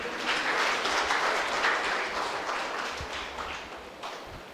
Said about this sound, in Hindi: आ जाओ, ताली बजाएंगे